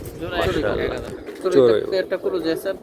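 Pigeons coo in soft, repeated throaty bursts close by at a pigeon keeper's setup, including Silver Giribaj and Gorra breeds, while people talk over them.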